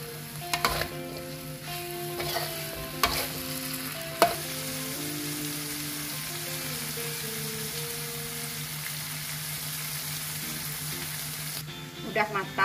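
Bitter melon and tempeh stir-frying in a pan, a steady sizzle broken by a few clinks and scrapes of stirring, close and alone throughout.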